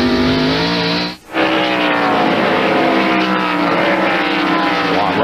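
Stock cars in a 1997 NASCAR race at the Save Mart Supermarkets 300 roar past bumper to bumper. The engines drone loud and close, with a brief dip as one car passes before the howl builds again.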